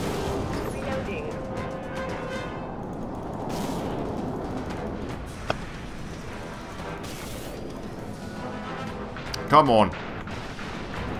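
Ship weapons fire in the space-combat video game Dreadnought, a steady rumbling barrage with a sharper crack near the end, heard under ongoing talk.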